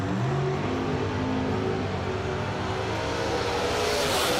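Hard Times Mustang drag racing car accelerating hard, a loud, steady, continuous engine roar that holds close and unbroken throughout.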